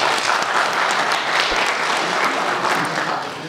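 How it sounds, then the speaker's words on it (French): A crowd applauds at an official ceremony in Tizi-Ouzou closing the accounting registers, sustained dense clapping at full level that eases slightly at the end, no voices over it. "Et il faut applaudir"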